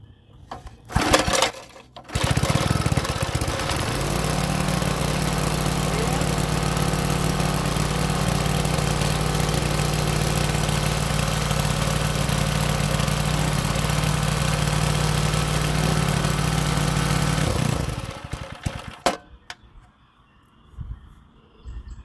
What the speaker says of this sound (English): Works like a charm. It's an old Sears wood splitter.